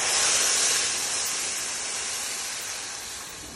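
Ground tamarind pulp hitting a hot pan with asafoetida, a loud broad sizzling hiss that starts strong and slowly fades, with no voices over it.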